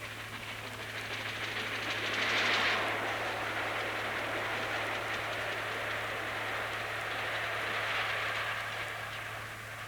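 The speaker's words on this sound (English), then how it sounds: "the back left-hand steam chest cover was coming adrift, and here, passing Goring, the sound is perhaps even more pronounced" Flying Scotsman steam locomotive passing Goring with its back left-hand steam chest cover working loose, heard as a steady broadband rumble and rush of a train going by, swelling and easing slightly, with no talk, on old film sound.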